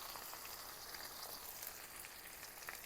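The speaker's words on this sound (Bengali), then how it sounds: "পেঁয়াজ কুচি দিয়ে দিলাম।" Chopped onion hits hot oil and fries with a soft, steady hiss and faint crackle, fairly quiet throughout.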